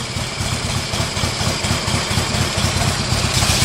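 A vintage Harley-Davidson Road Glide motorcycle engine idles steadily up close, its deep exhaust thumping in an uneven, loping rhythm like a shovelhead.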